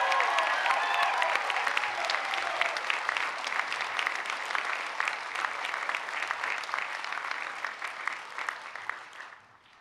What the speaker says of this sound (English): please join me in another round of applause for the newest officer in the United States Army and the Pennsylvania National Guard